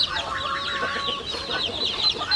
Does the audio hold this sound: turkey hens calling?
yes